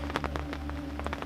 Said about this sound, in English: It's so miserable and dark and raining all day